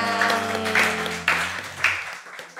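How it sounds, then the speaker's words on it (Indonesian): A few people clap in scattered, sparse bursts during an Indonesian podcast session, with a held tone lingering underneath. "kasih tepuk tangan buat Kak Ika"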